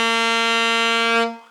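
An alto saxophone holds a single clear, steady tone at close range, then stops cleanly, with no one speaking.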